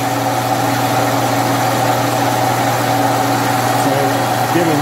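Austin Healey overdrive gearbox running in second gear on a test rig, giving a steady, loud mechanical drone and whine with constant low hum throughout.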